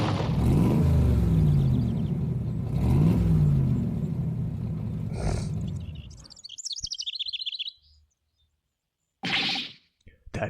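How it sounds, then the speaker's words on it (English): A red sports car in the video game Ace Attorney arrives with a loud, rumbling engine that rises and revs, then cuts to game chirps and beeps, with a brief revving burst near the end. "That red sports car."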